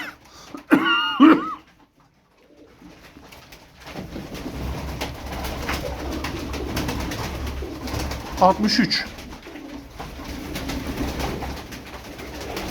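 Soft pigeon coos and fluttery bird calls rise over steady outdoor background noise, with a brief spoken phrase near the start.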